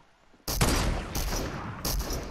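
Gunfire in a desert zone war video game, with loud dense bursts breaking out suddenly and repeating in clustered volleys, close and harsh with no talking.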